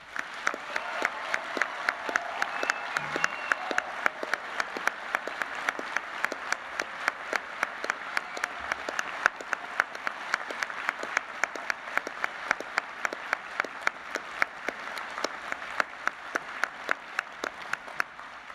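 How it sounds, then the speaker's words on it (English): Sustained applause from a graduation ceremony audience honouring new graduates, steady dense clapping that carries on throughout without any speech over it. "I invite you to share your appreciation for their achievement by applauding their efforts."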